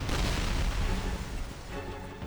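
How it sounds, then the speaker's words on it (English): A deep, rumbling explosion in the video game Love and Deepspace, a dense, booming blast that rolls on loudly for a couple of seconds before easing slightly toward the end. "was that an explosion?"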